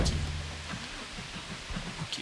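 Steady rain falls in the Project Zomboid video game at night, a soft, even hiss with faint patter and a low hum fading early on, with no one talking.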